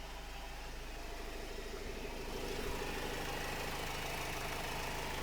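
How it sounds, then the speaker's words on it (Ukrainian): A 2013 Renault Trafic long-wheelbase van's 2.0-litre 115 hp engine idles steadily up close, a low continuous rumble with a faint mechanical hum and no voices. "Я думаю, що роботу мотора чути одразу."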